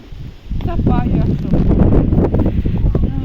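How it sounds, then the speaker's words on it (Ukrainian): Strong, cold wind over a rural vegetable garden buffets the microphone in loud, rough gusts while a voice speaks underneath. "Вітер страшний, так холодно."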